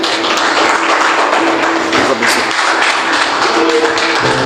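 A church congregation applauds during a Portuguese-language sermon, loud and sustained clapping from many hands that goes on without a break, with only a faint voice under it.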